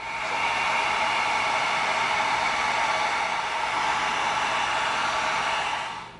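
A heat gun blows steadily while sealing EVA foam for a rocket hammer prop, an even, loud airy roar lasting several seconds without a break or any talking.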